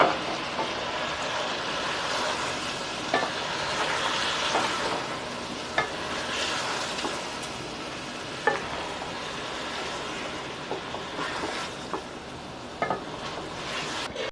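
Ginger, garlic and green chilli paste frying in a pan for chicken korma, a continuous sizzle broken by several sharp utensil knocks and scrapes, close and without talk.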